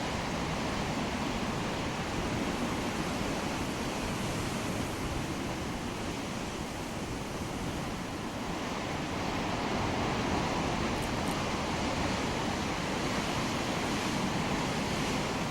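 Ocean waves crash steadily on the Oregon coast, a dense continuous roar of surf heard from a hilltop with some wind buffeting the microphone, loud and unbroken throughout.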